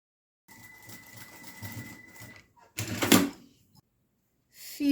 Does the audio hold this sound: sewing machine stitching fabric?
yes